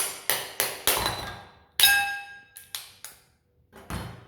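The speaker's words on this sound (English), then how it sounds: "I'm just going to crack these nippers open and show you how to crack the nippers open" Mud crab claws are cracked open with a hard tool, a series of sharp, ringing knocks and cracks at irregular intervals, close and loud with brief pauses between blows.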